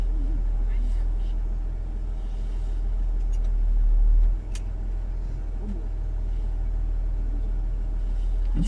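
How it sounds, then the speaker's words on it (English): A big pickup truck grinds up the rough dirt track of Imogene Pass, its engine a steady low rumble close by, with a brief louder surge midway and people talking over it. "That's a pretty big pickup truck that guy's bringing up here."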